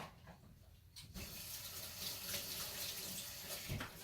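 Tap water runs steadily into a sink while something is rinsed out, a close, continuous splashing rush that swells after a brief quieter start.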